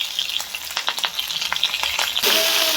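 Sliced onion rings and a cut green chili fry in oil in a pan, a steady close sizzle broken by a few brief stirring scrapes, growing louder and denser toward the end.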